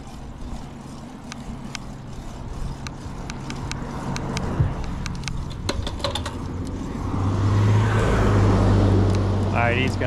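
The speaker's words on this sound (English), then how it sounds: "There's gonna be a car behind us" A car passes on a country road in a state park, its engine and tire noise swelling from behind and growing loud near the end, with talk over the approach.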